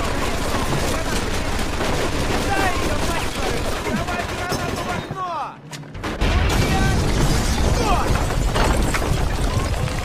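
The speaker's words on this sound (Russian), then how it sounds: "Ну, похоже, мы нашли пулемет!" Machine gun fire rattles in the Mafia 2 video game, loud, dense and continuous for about ten seconds apart from a short gap near the middle, with booming impacts mixed in.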